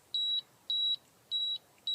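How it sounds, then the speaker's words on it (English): Portable gas detector in low-alarm mode after exposure to gas, sounding steady high-pitched electronic beeps, four evenly spaced quarter-second tones, clear and close with a quiet background. "it will alarm when it's exposed to gas. And there it goes. So it's showing you a low alarm"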